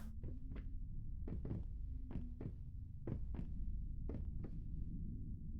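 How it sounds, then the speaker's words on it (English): Heavy heartbeat-like thumps sound while descending stairs in the horror video game Layers of Fear: about five evenly spaced double beats, deep and muffled over a low hum. "It's interesting going down the stairs. He sounds like a heartbeat. Thump thump."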